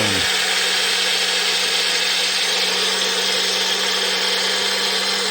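A Magic Bullet blender grinds oats into flour with a loud, steady, high-pitched motor whine that runs unbroken and close throughout, with no talking.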